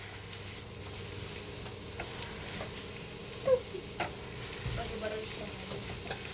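Onions frying in butter in a pot for turkey stew, a faint, steady sizzle with occasional stirring clicks and a soft clunk.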